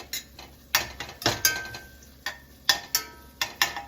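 Cooked ground beef being scooped out of a pan with a utensil, a series of sharp metallic scrapes and clinks in an irregular rhythm, close and clear with no talk.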